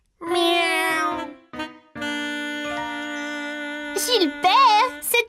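A cat character named Gilbert in an animated children's show gives a couple of drawn-out, wavering meows near the end, following excited children's voices shouting.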